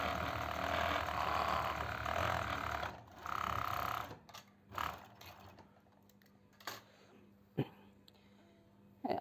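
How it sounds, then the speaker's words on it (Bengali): An overlock sewing machine runs in steady buzzing bursts as it stitches fabric after a skipped-stitch repair, with a longer run at the start, then shorter starts and stops, and a few sharp clicks near the end. "আমরা সুতা লাগাই ফেলছি এখন সুইং করে দেখব আমাদের মেশিনটা স্কিপ পড়ে কিনা"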